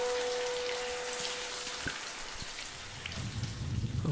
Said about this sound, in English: Okay, let's take a shower.